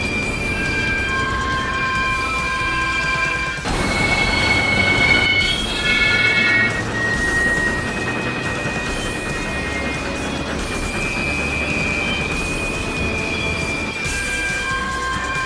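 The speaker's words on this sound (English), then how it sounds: "Luke applied his brakes fiercely. The train screeched along the rails" Train brakes in Garry's Mod screech along the rails, piercing metallic squeals layered over a rumbling, clattering train, intensifying in the middle and sustained throughout without voices.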